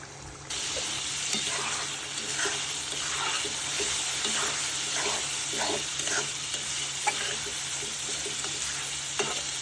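Prawns frying for a prawn do pyaza curry, a constant loud sizzle in the pan with intermittent scraping stirs, heard up close and without any voices.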